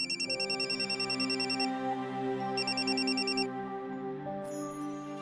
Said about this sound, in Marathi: तुमच्या फोनवर वॉर्डन मॅडमचा फोन आला.